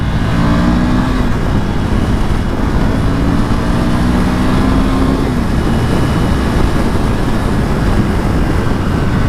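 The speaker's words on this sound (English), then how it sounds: "I'm just gonna gas it from 3 grand" A 2020 Ducati Monster 797+ motorcycle accelerates hard in first gear from around 3,000 rpm, its engine note loud and close, rising steadily in pitch throughout with no talk over it.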